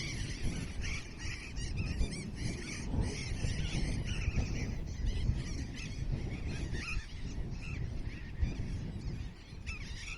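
A large colony of burrowing parrots nesting on coastal cliffs on Argentina's Atlantic shore: dense, continuous raucous squawking and shrieking from many birds, loud and steady throughout with no voices.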